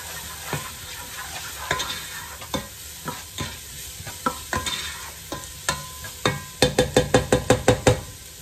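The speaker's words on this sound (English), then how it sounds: "we're going to cook these onions up until" Onions cooking in olive oil in a pan, with a soft sizzle behind close, irregular utensil knocks and scrapes that quicken into a rapid run of taps near the end.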